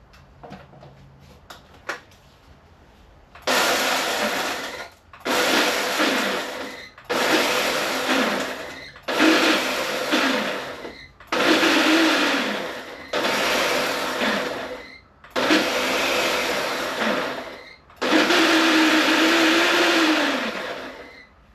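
An electric grinder pulverizes whole spices for a master spice blend, running in eight loud, close bursts separated by brief pauses, with the later bursts running longer.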